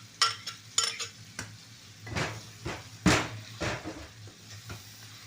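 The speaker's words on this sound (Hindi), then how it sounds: "अब इसी में चिकन भूनूंगी।" Chicken being fried in a boiled spice paste in a home kitchen pan, with intermittent stirring scrapes and sizzling bursts over a low steady hum, fairly close and moderately quiet.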